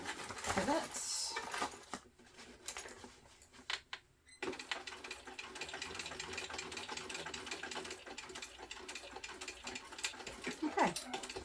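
Sewing machine with a flatbed attachment stitching a backpack seam, a steady mechanical whir running through most of the stretch, broken by a brief pause and some handling of fabric, with speech present.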